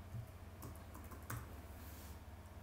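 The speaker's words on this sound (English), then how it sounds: "And so we'll come up here and we'll type" A few soft keyboard taps come in small clusters, faint against a steady low background hum.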